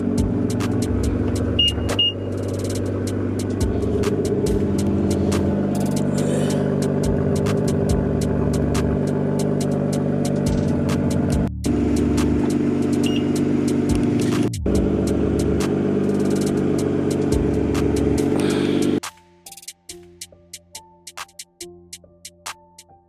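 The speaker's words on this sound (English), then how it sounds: "Trying to see if I can give you guys a little cold start." A BMW G42 M240 engine idles with a steady, deep, rumbling drone close by for most of the time, then shuts down abruptly, leaving only quiet, sparse ticking. No one speaks.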